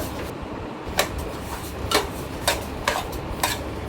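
A spoon stirring carom seeds (ajwain) as they roast dry in a pot, giving a soft scraping bed with about six sharp clinks at a steady pace, close and moderately quiet.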